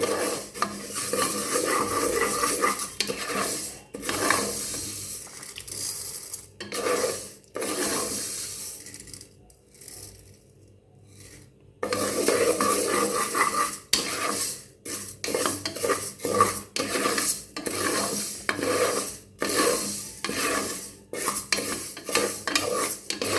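Moong dal for halwa roasts in ghee in a pan, stirred continuously with a metal spoon that scrapes and clinks against the pan over a soft sizzle, with a brief quieter pause midway.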